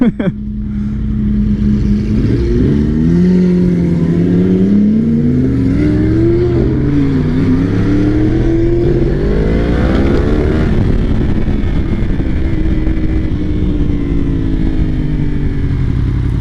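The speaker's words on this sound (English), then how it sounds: "now that I was rudely interrupted by that Lamborghini" Lamborghini engine close by, a loud continuous roar that rises and falls through repeated revs over a rumbling idle, drowning everything else.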